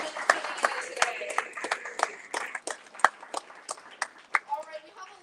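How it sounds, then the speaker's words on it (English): Scattered claps from a small audience at a poetry magazine launch event, a dozen or so sharp, uneven hand claps spread across a few seconds, fairly faint and thinning out as the room settles. "So give yourself a round of applause for coming out and all the work you've been putting in today"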